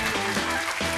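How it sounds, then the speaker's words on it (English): A studio audience on a TV game show applauds its contestants, a dense, steady wash of clapping at close range that carries through the whole moment with no break. "give a round of applause to all our contestants"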